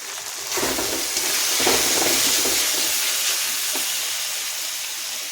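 Turmeric powder stirred into chicken frying in a pan, with a steady loud sizzle and hiss throughout and faint stirring scrapes, and no talking.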